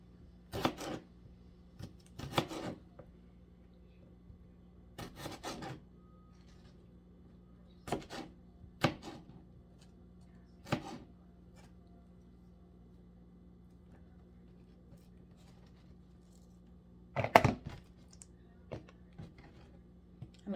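Vegetables being cut with a knife, for Philly cheesesteak fries: sharp, distinct knife chops on a board in short irregular clusters with pauses between, close but fairly quiet over a faint steady hum.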